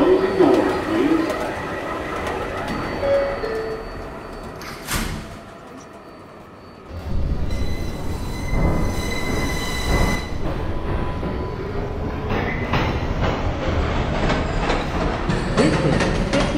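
A Pelham Bay Park-bound 6 local on the New York City subway rumbles steadily as its wheels squeal in high, drawn-out tones. A brief hush falls before the roar resumes.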